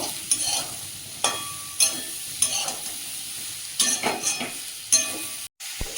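Fried jackfruit pieces stirred into a cooked-down spice masala sizzle in the pan, with repeated scraping stirs and light clinks of a spoon arriving every second or so over a soft, constant frying hiss.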